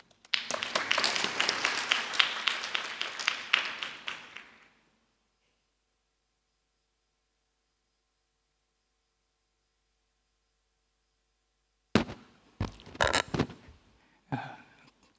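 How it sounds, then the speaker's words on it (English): A conference audience claps for about four seconds in dense, lively applause, then near silence follows, and a few sharp handling knocks and faint sounds come near the end. "please join me in giving him a warm round of applause"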